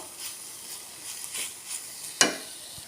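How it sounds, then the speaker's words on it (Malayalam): Onions and tomatoes sautéing in a pan, a soft steady sizzle broken by occasional stirring scrapes and one sharp clack of a utensil near the end, close and alone with no talk. "നമ്മൾ ഉള്ളിയും തക്കാളിയും വഴലാൻ തുടങ്ങിയിട്ടുണ്ട്"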